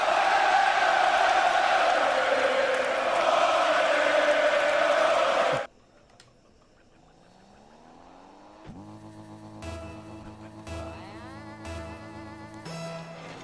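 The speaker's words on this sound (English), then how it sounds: "Crowd still rocking." Crowd cheering in a video game during an IGL Fall 2020 playoff match, a loud steady roar filling the first half, then giving way to quieter engine-like whirs and electronic game tones.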